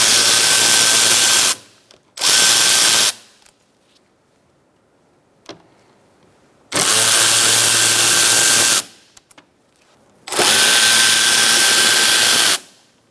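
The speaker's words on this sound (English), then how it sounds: "Using a T30, remove your Torx bit bolts." A power driver fitted with a T30 Torx bit whirs in four loud bursts, each one to two seconds long, backing out bolts on the grille shutter area of a 2012–2018 Ford Focus, with near silence between runs.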